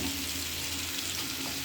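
Boiled potato curry is stirred in a pan, a short steady bubbling sizzle heard close and fairly loud, with no voices.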